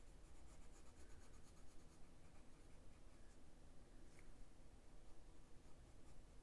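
Prismacolor colored pencils shading dark blue across paper, a steady soft scratchy rubbing that continues close up throughout, with no talking.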